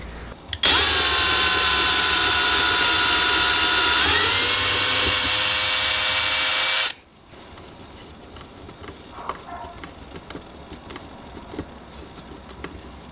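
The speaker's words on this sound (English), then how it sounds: "Then I pre-drill the holes for the brass screws to go into." A power drill pre-drilling holes for brass screws in a wooden keepsake box, a loud steady whine for several seconds that dips slightly in pitch, then stops and leaves quiet room noise.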